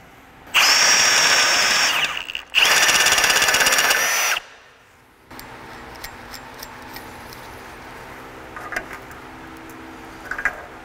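A power drill bores into a Honda Integra Type R part in two loud bursts of about two seconds each, then stops, leaving faint tapping and handling noises.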